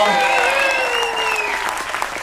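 A cruise ship audience gives a big round of applause for the first act of a show, a steady wash of clapping that fills the whole stretch beneath a host's amplified voice.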